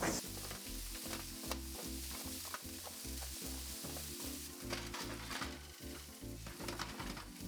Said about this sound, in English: we're just gonna spread this out on our hot baking sheet